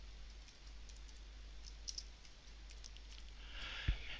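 Light, quiet typing on a computer keyboard while text is entered into a PowerPoint title slide, soft scattered key clicks under a low steady hum, with a slightly louder tap near the end.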